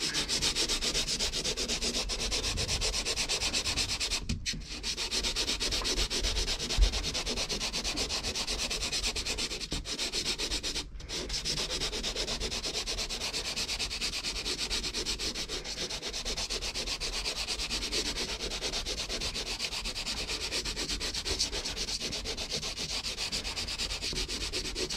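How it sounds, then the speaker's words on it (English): Steady, continuous scraping of sandpaper wrapped on a block rubbing over dried lightweight wall filler around the edges of a patched hole, close and even, with only a couple of brief pauses and no voices. "I'll just grab my sandpaper, a little block, and I'll just slightly sand it around the edges."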